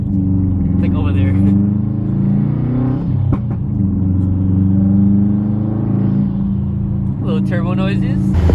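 Subaru WRX STI idling and blipping, a loud low engine drone with rising and falling turbo and intake whooshes across several revs, heard close with no speech.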